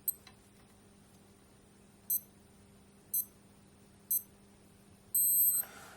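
Four short electronic beeps, about one second apart, count down from a timer, followed by a longer, louder final tone and a soft burst of noise. All of it is quiet and close over a faint steady hum, with no talking.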